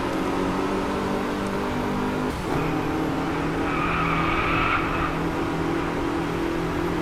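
A Mercedes races in the video game Driveclub, its engine droning steadily while tires squeal in a skid that rises for a couple of seconds midway, with no talk over it.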